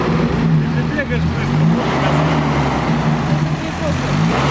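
Car engine revving steadily and loudly nearby, a sustained droning roar with slight swells, alongside a running radiator fan, while people talk over it.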